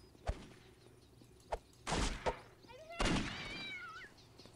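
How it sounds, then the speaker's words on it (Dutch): A cat in the video game Postal 2 gives a short rising meow among sharp in-game thumps and impacts, with someone talking over the scene. "Oh, een kat! Een kat!"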